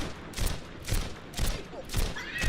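Widowmaker's rifle in the game Overwatch fires in rapid succession, five sharp, evenly spaced bursts, loud and close, with a faint whistling tone near the end.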